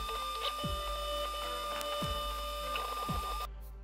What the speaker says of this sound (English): The printer is now smearing the first layer and printing will begin.